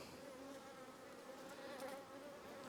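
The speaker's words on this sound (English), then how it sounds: "there's just a lot of bees." Bees buzzing around an open beehive, a dense continuous drone of many insects close by, faint and steady with slight swells.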